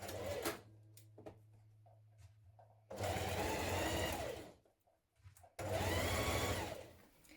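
A sewing machine stitches the pocket seam of a summer dress in two loud sustained runs separated by a short pause, with quieter handling and clicks before the first run.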